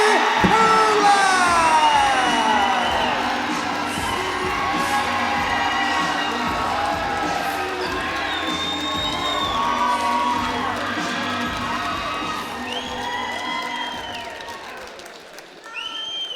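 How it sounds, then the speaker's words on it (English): A fight-show crowd roars after a unanimous-decision win is announced, with loud cheering, whoops and shouted voices rising and falling over steady clapping for about sixteen seconds, easing slightly before a final burst. "that's the loudest I've heard the crowd all night tonight"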